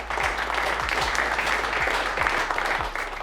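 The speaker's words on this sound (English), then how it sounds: "So again, a round of applause for you guys and girls." Applause from a small meetup audience, a close burst of clapping that holds steady for a few seconds.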